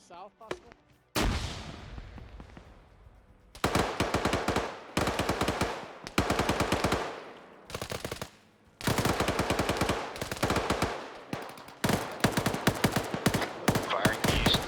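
Machine gun fire in a multiplayer war video game during a winter raid: loud, close bursts of rapid automatic shots in repeated volleys, separated by short pauses.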